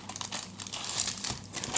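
Plastic sachets from a French combat ration crinkle and crackle steadily in close handling, a dense rustling that swells near the end, with no talk over it.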